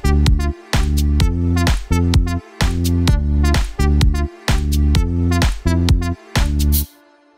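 A song produced in the FL Studio Mobile app: loud, punchy electronic music with heavy bass notes and chords in a steady repeating pattern, cutting in and out in short rhythmic stops, then ending abruptly.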